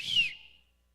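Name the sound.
person whistling like a referee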